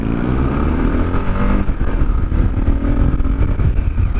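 Kawasaki KLR650 motorcycle accelerating in first gear, its single engine loud and close with a steady, throbbing rev that climbs through the short pull.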